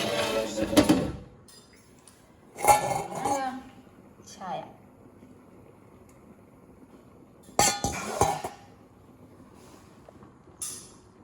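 Rice boiling in a pot, with a small vessel inside knocking against the pan, gives clustered metallic clinks and rattles in a few separated bursts, close and fairly loud against a quiet background.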